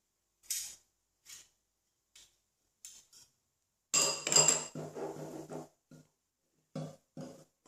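A spoon mixes cornstarch into a lemon meringue tart preparation, giving soft scattered clinks and scrapes against a bowl, with a denser burst of stirring midway and quiet pauses between.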